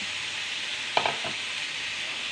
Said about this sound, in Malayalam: നമുക്ക് അരിഞ്ഞു വെച്ചത് ചൗചൗ ഉള്ളി എല്ലാം കൂടി ഇങ്ങോട്ട് ഇട്ട് കൊടുക്കാം.